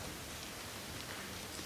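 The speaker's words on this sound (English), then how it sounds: "it's raining outside." Rain falling outside, heard from a quiet indoor hall as a steady, soft, even hiss with no distinct drops or talking.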